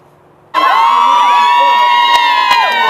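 A huge crowd roars and cheers at a packed high school football game, loud and steady from the start, with shouts and whoops riding on top of the continuous cheering.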